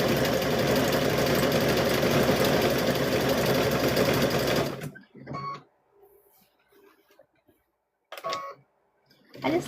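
A sewing machine stitches a fabric-covered rope bowl with a loud, dense, steady whir for almost five seconds, then stops abruptly, leaving a quiet stretch with a few short mechanical clicks and brief bursts.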